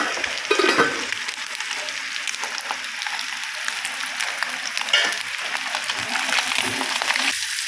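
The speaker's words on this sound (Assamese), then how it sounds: "এইখিনি মোৱা মাছ ফ্ৰাই কৰি আছোঁ" Small mowa fish fry in hot oil in a pan, giving a steady, close crackling sizzle that runs without pause for the whole stretch.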